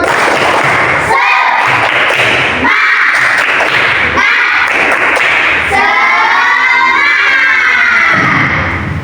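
A class of children claps in a loud, steady rhythm while chanting and shouting together in unison, in bursts separated by brief pauses.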